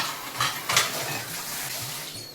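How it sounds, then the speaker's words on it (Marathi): Dishes being washed and scrubbed in a home kitchen, with a few soft clinks and splashes of water against a faint running-water background, quiet and close. "आता भांडी पण घासून घेते पटकन"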